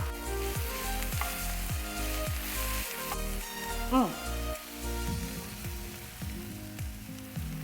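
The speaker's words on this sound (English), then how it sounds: "The eggplant starts to become brown." Eggplant frying in a pan while it browns and caramelizes gives a steady close sizzle with crackles and the scrape of stirring. A voice talks briefly over it.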